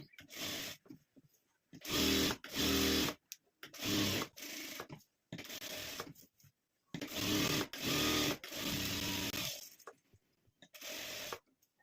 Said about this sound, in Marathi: तर आपण आता टिपा मारून घेऊया